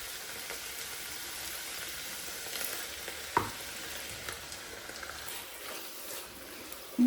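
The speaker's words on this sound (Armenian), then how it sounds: "գինին ավելացնելուց հետո մի փոքր տապակվում եմ" Lasagna sauce fries steadily with wine and tomato juice added, a continuous soft sizzle with a brief clink of stirring midway and no talk.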